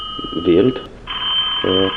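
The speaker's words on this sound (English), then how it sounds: "That's the phone." A telephone rings with steady electronic tones in two bursts, close and clear, while a person speaks briefly between them.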